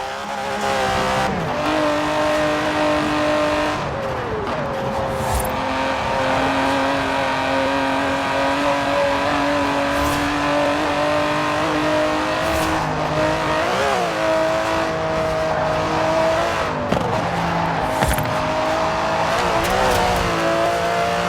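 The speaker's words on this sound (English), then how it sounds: "The DB11 is not the fastest car in the world, but then it's not trying to be." An Aston Martin DB11 driven in the racing video game Forza Horizon 4, its engine holding a steady loud drone with repeated rises and dips in pitch through gear changes, occasional tire squeal, no talk.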